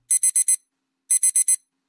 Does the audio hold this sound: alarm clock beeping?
yes